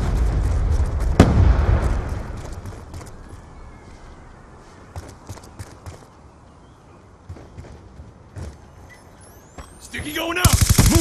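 Grenade blast and gunfire from a Black Ops 2 match: a loud burst near the start, then scattered shots and clatter across the middle, with a noisy flurry at the end and occasional game voice callouts.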